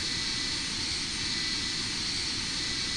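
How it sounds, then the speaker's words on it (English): Simulated aircraft engine in the Roblox flight game Flightline, a steady broadband jet roar that holds at an even, loud level throughout as the plane taxis under thrust, with no talk. "we've got some thrusts going here, so we'll begin our taxiing."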